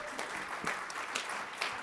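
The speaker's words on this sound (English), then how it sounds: "So let's give a round of applause for our speakers." An audience in a conference ballroom gives the speakers a steady round of applause, many hands clapping at moderate distance with a few louder claps nearby.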